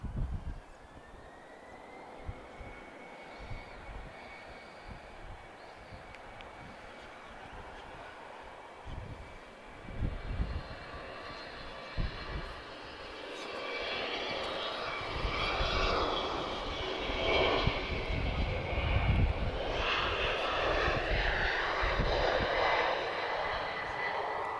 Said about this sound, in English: we've got a heavy TAP pushing back as well, A330neo